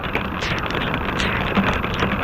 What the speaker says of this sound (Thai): แล้วก็ตอนนี้ฝนตก